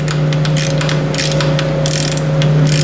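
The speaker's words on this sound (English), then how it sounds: "Bolts to tighten up," A ratchet wrench clicks rapidly and steadily while bolts are tightened on the oil pan of a Ford 800 tractor, close and loud over a constant low mechanical hum.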